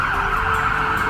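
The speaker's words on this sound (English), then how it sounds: "You can hear a siren going off in the background even as I shoot this" A wailing siren in Happy Valley-Goose Bay holds a steady high tone, loud and close, with low traffic rumble beneath it.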